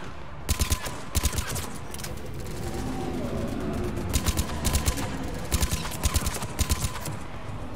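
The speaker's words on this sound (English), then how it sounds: "Sentry turret seems to be pretty cool" A sentry turret in Mass Effect 3 fires repeated rapid bursts of sharp, loud shots, clustered in quick volleys with brief gaps over a steady background of game ambience.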